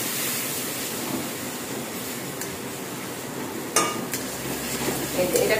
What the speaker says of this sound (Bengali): এটা কষিয়ে নিচ্ছি।